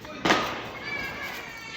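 A single sharp bang of a Diwali firecracker cracks out, followed by a lingering crackle and hiss, with children's voices audible in the background.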